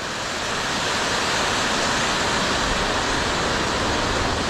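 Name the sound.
monsoon waterfalls on jungle trek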